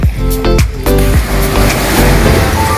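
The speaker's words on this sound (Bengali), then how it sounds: "ঢেউ আসছে সামনে দিয়ে জাহাজ গেল ঢেউয়ের জোরটা দেখো" River waves stirred up by a passing ship wash steadily and loudly against a small fishing boat, a continuous broadband rush that carries through the whole moment.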